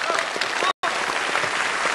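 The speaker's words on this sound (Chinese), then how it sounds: "大伙掌声来鼓励" A theatre audience at a Chinese crosstalk comedy show claps in dense, continuous applause with a brief cut partway, and voices are mixed in.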